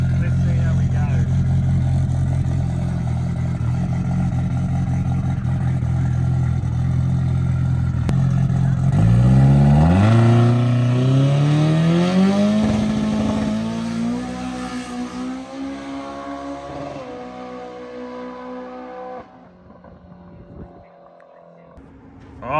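A drag race car launches on nitrous, its engine note climbing steeply as it accelerates, loud and close at first and then fading out toward the end.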